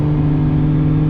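Turbocharged car holds a loud, steady engine drone close by through a brief moment of acceleration, with a smooth mid-pitched note and no voices.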